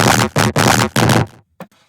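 A synth drop heavily saturated with Camel Crusher distortion hits as four loud, harsh, choppy bursts in quick succession, then cuts off and leaves a brief faint tail.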